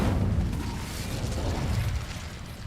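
The Incendio fire spell is cast in Hogwarts Legacy with a loud, rumbling burst that holds briefly and then fades into a low roar.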